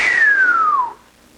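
A single whistled note slides steadily downward for just under a second, close and clear, then breaks off into near silence.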